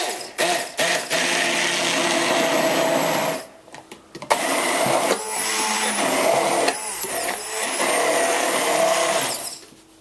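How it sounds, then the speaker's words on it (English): A blender whirs at full speed pureeing sweet vegetables in two long loud bursts split by a short pause, then cuts off near the end. "Now just pour everything into whatever you're going to mix or puree it in, and then puree."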